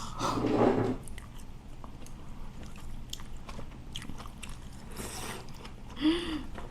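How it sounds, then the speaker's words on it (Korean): Someone eats spicy malatang, chewing bean sprouts close to the mic. Soft wet crunches and bites come in an irregular rhythm, with a louder bite at the start and quiet breathing between. "숙주 씹는 소리가 진짜 좋다."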